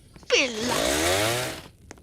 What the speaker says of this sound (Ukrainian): У нас є бензопила